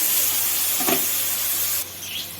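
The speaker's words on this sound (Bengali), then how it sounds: "দিয়ে দিচ্ছি টমেটো কুচানো, আর দিয়ে দিচ্ছি মশলাটা। দিয়ে ভালো করে কষিয়ে নেবো আমি।" Chopped tomato and spices fry in a hot pan with a steady, close sizzle and a brief stirring scrape partway through, with no talk.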